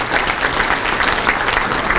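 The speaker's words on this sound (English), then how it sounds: "So let's give all of you a round of applause." Loud, steady audience applause at a county economic forum, a close, dense wash of many hands clapping with no talk over it.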